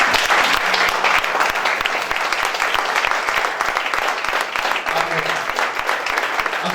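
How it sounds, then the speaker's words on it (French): A church congregation at a Sunday service claps steadily and loudly. The clapping is dense and sustained, with some voices mixed in underneath. "Acclamez le Seigneur"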